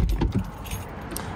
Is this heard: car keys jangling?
yes